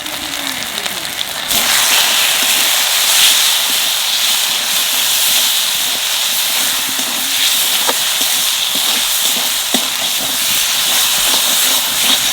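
Spices with salt, turmeric and Kashmiri chilli powder fry in a pan with a loud, continuous sizzling hiss close by, a few faint clicks scattered through it and no talking.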